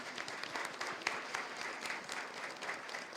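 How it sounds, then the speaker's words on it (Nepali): A church congregation at a children's Christmas fellowship service claps in welcome, a soft, even patter of many hands heard from a distance and continuing throughout. "हामी एका दोस्रालाई आउनुहोस् हामी ताली बजाएर नै स्वागत गरौँ।"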